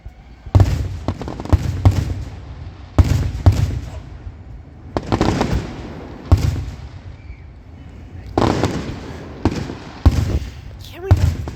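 Fourth of July fireworks go off outdoors in a series of sharp booms and crackling bursts at irregular intervals, some distant and some louder. Voices can be heard now and then between the blasts.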